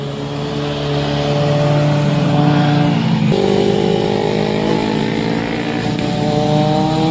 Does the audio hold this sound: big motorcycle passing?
yes